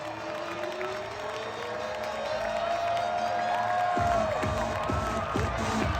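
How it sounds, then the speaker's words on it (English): Baseball crowd at the Florida Gators' Condron Ballpark roaring after a home run, sustained cheering and whoops with rising rhythmic clapping near the end, loud and full. "the whole crowd was going nuts for it"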